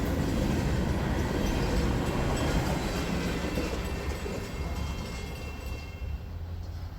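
An intermodal freight train carrying piggyback trailers rolls past, a loud continuous rumble with wheel clatter that eases slightly toward the end.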